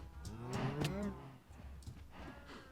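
Minecraft cows moo several times in close, overlapping calls, fairly quiet, crowded together in a cattle sorting pen.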